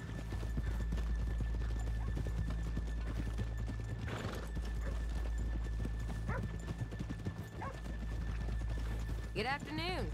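Horse hooves clip-clop steadily throughout in Red Dead Redemption 2, a close, continuous rhythmic trotting with a brief whinny, under people talking.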